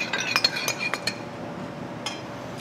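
A utensil stirring vinaigrette and spices together in a bowl for a sweet potato and toasted marshmallow salad, giving a quick run of light, bright clinks against the bowl, then a pause and a last couple of taps.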